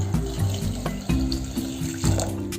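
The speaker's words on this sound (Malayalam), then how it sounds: "ആവശ്യത്തിന് വെള്ളം ഒഴിച്ചു കൊടുക്കാം." Water runs steadily into a pot of yam for Kerala-style koottu curry, a continuous splashing stream with small surges, close and fairly loud.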